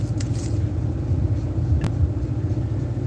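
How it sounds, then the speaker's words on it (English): A vehicle rumbles close by with a steady low engine drone and a loud continuous roar over a few seconds. "this vehicle is messing me up"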